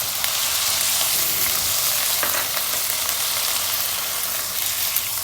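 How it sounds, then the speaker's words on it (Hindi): Chicken fries in a pan with sautéed garlic for chicken macaroni, a loud continuous hiss of sizzling oil with a few faint stirring scrapes, close and without talk. "अब हमारा लहसुन सौते हो गया। अब हम इसमें डालेंगे चिकन।"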